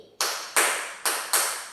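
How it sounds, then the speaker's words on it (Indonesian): A teacher claps four times in a pattern for a primary school lesson: two quick pairs of sharp, close hand claps, each with a short ringing, room-reverberant tail, alone without talk. "Kalau tepuk 4 kali seperti ini"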